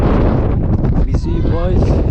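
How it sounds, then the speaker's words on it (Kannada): Strong wind buffets the microphone at Mullayanagiri peak, a loud continuous roar and rumble with faint voices mixed in. "ಈಗೊಂದು ಸ್ವಲ್ಪ ಗಾಳಿ ಕಮ್ಮಿ ಆಗಿದೆ ಕೆಳಗೆ ಬಂದಿರೋದ್ರಿಂದ"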